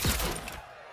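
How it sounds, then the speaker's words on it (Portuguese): A quick burst of loud gunfire cracks out in Mortal Kombat 11, then trails off into a fading echo. "Esses tiros são altos."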